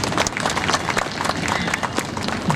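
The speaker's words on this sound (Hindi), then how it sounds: "आप सभी श्रोताओं के लिए तालियां" An audience at a Hindi poetry recital claps in a brief burst of applause, dense and fairly close, with scattered individual claps blending into a continuous patter and faint crowd murmur.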